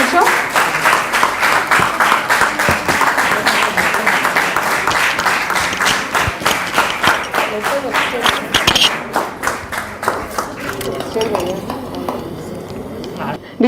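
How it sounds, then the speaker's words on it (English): Sustained, loud audience clapping fills a women's college hall at the inauguration of a mobile mothers' milk bank, with dense rhythmic claps that thin out and fade near the end. "I request all of you to please give a bigger round of applause for the great cause."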